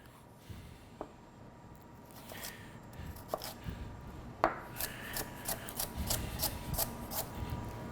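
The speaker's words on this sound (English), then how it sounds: "the carrot, I like to cut them in pieces like this, stand them up again, and just glide through them like that" A knife glides through carrot pieces standing upright on a cutting board in a cooking class, giving a few quiet separated cuts that turn into a quicker run of soft chops and taps near the end.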